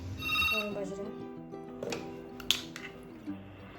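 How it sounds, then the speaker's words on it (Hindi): A mobile phone ringtone chimes loudly at the start in a home, its tonal ringing tapering off over a few seconds, with a short tap or click later and speech around it. "मेरा फ़ोन बज रहा है"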